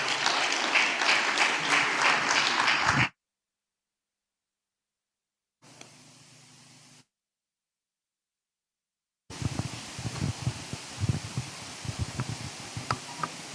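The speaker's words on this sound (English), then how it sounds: "Please, another round of applause for my Lord" Audience applause at a judiciary workshop, dense clapping in a hall heard in separate bursts broken by silent gaps, with a louder, rougher stretch at the end.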